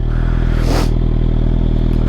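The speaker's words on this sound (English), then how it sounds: "It's got a Dan Moto exhaust, which sounds phenomenal." A 2020 Suzuki GSX-R750 fitted with a Dan Moto exhaust idles with a low, steady throb. A brief whooshing, scraping burst rises and fades midway.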